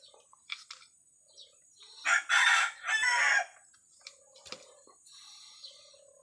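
A gamecock rooster, a Gilmore Hatch crossed with Sweater, crows once in a loud, clear burst, with scattered clucks and short calls before and after in a quiet setting.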